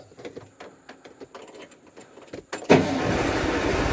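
An air-cooled Volkswagen Beetle engine in a barn-find car sputters with rattles and clunks, then catches and roars steadily as gas is given, loud and close with no talk.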